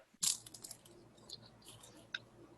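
Close bites into a crunchy Biscoff snack from Kroger, one loud sharp crunch followed by quieter chewing crackles and another crisp crunch near the end, in a quiet room.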